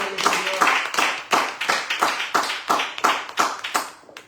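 A church congregation claps in unison, a steady run of loud, evenly spaced claps at a brisk beat, close and crisp for a few seconds.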